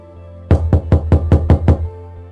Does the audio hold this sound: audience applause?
no